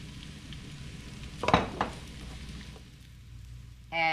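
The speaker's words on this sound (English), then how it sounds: "we're gonna start cooking these. I'm gonna add a little bit more olive oil to the pan" Vegetables fry in olive oil in a pan with a low, steady sizzle. A louder scrape and splatter breaks in once or twice as the food is stirred, and near the end there is a short clatter.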